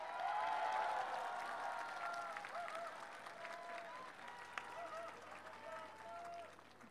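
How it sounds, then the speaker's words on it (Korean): A ceremonial crowd gives warm, sustained applause for the first lady, a dense even patter of many hands that slowly eases, heard from a distance under background murmur. "영부인께 다시 한번 뜨거운 박수 부탁드리겠습니다."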